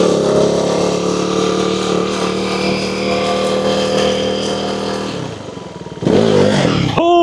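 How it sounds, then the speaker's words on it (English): KTM Duke 390 motorcycle engine running close and loud, a steady rumble that dips in level as it downshifts into first gear, then jumps back with a sharp rev near the end. "Let's downshift into second. Downshift into first."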